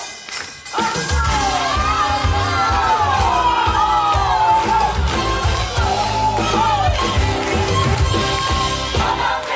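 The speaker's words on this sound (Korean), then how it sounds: "박수" The audience at an outdoor madang changgeuk performance, a Korean folk opera, in Jeonju breaks into loud crowd noise with yells and whoops that continue steadily for several seconds, with high voices ringing over the crowd.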